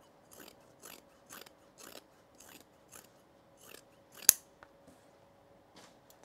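Scissors snipping through fabric for sewing cargo pants, a steady series of crisp, close cuts repeating roughly every half second, with one sharper louder snip partway through.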